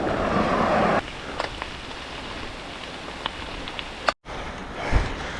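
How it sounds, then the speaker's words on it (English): Steady rain pours down during a heavy mountain thunderstorm, with a flooding sidewalk nearby; a dense hiss of drops is loud for the first second, then continues more softly with scattered sharper splashes and a brief dropout. "I love the rain."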